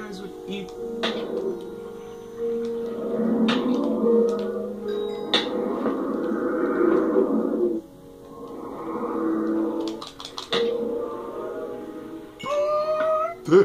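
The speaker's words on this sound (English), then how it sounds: "all of those sounds you're hearing are literally coming from the Guardians themselves" Guardian mobs in Minecraft making strange creaking, whining cries that rise and fall in several bursts, fairly close and clear, with brief clicks and other game sounds between them.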